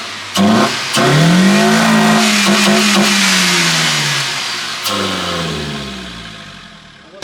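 A turbocharged Nissan A14 engine revs hard, rising and falling in pitch across several loud, close bursts, then dropping back before a final sharp blip.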